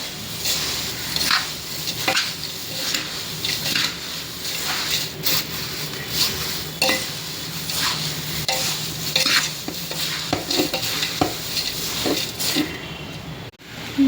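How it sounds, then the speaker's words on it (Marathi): Thin poha chivda, a Diwali snack, is stirred in a pan after amchur powder is added, giving a steady scraping, rustling sizzle with repeated stirring strokes throughout, close and fairly loud with no talking. "आमचूर पावडर टाकून घ्यायची आहे आणि छान मिक्स करून घेऊया"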